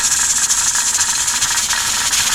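Steam hisses from a pressure canner on a stove top after canning green beans at 10 pounds pressure, a loud, continuous, close rushing hiss that holds steady throughout, with no talk.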